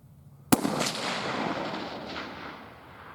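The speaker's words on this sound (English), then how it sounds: "Still shooting high, Dustin." A single sharp shot from a .280 AI rifle at target practice cracks loudly up close, followed by a long rolling echo that fades over about two seconds.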